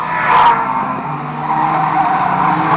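Racing cars at Fleet Raceway sweep past nearby with loud engine roar and a sharp tyre squeal near the start, then a sustained buzzing drone as more cars follow.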